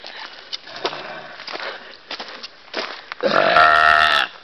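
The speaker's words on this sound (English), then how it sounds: "Ones that burped really loud" A loud, drawn-out burp rises near the end of a hike outdoors, following scattered softer rustles and small mouth sounds, with no clear talk.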